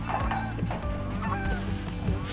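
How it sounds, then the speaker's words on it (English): Geese honk as they fly over farmland, a run of loud overlapping calls in uneven bursts, some near and some farther off, with no voices. "provides habitat for these geese that you hear flying around"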